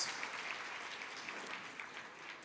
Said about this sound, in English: Can you all stand and give him hands of applause, please?